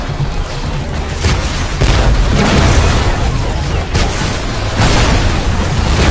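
Mortar rounds from the video game Hard Reset burst with freezing blasts, giving dense, booming explosions that fill the whole span at a steady loud level, with surges near the two-second and five-second marks.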